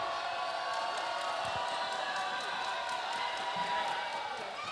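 Filipino fans in an arena crowd cheer through a free throw at an AsiaBasket game between Harimau Malaysia and CSB Blazers, a steady roar with a faint bounce of the basketball beneath it.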